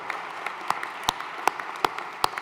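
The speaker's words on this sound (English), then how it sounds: "Let's have a big round of applause for those in the house with us today." Scattered claps at a sports Hall of Fame induction ceremony, a handful of distinct, sharp hand claps at a slow, uneven rhythm over a quiet room, more like a few people than a full crowd.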